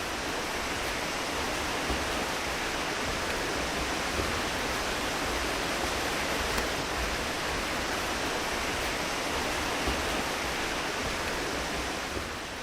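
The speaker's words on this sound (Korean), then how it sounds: "물소리 좋다." A mountain stream in rural Sancheong, South Korea, flows with a constant, even rush of water, a dense and steady hiss from start to finish without any voices or other sounds.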